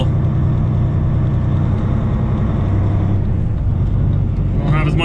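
A truck with a jumpy automatic clutch drives off a ferry, its engine a loud, steady, close drone with a low rumble that holds level throughout.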